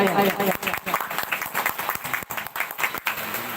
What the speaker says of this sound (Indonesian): Tepuk tangan dulu dong buat Condet Raya.